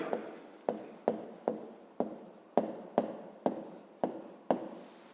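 Handwriting on paper while working a grade-5 math exercise: a series of about ten short, evenly spaced pen strokes and scratches, close and quiet, each a brief scrape that fades before the next.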